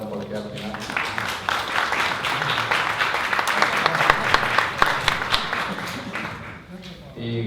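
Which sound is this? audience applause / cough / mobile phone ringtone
audience applause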